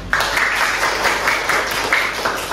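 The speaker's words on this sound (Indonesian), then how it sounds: "Oke, tepuk tangan." Students in a classroom clap their hands together for a group presentation, a fairly loud, dense burst of applause that starts abruptly and carries on evenly.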